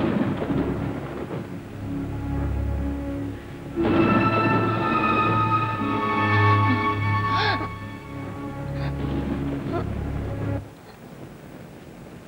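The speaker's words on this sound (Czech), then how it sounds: "ta bouřka mi nahání strach, Kabure" Thunder rumbles low and long through a rainstorm at night, a steady heavy wash of rain with swelling rolls, while tonal music plays over it.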